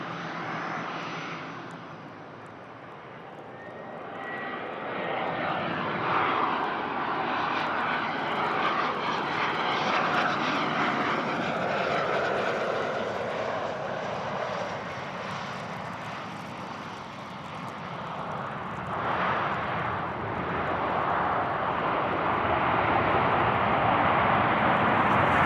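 An airplane lands on wet runway 16R at Van Nuys in the rain, its engine roar building and swelling loudly as it passes, then rising again near the end, with no voices.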